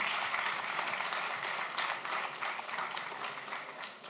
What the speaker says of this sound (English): Can we have a round of applause for Irene, please?